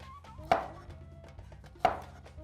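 Two sharp knife chops cut through an onion on a cutting board while making Peking noodles, evenly spaced and close, with quiet kitchen hum between them.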